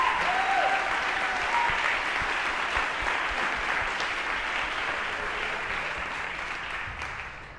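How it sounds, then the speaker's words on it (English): Sustained, dense applause from an audience at a student pitch competition event, saluting the judges; loud, steady clapping that fades slightly toward the end with no talk over it. "Can we have one huge round of applause for our judges today?"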